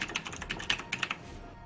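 Quick typing on a computer keyboard, a close, crisp burst of about a dozen key clicks in an irregular rhythm before trailing off, with no talking.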